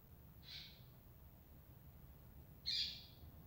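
Two separate bird calls ring out, a soft one early and a louder, sharper one near the end, each brief and high over a quiet low hum.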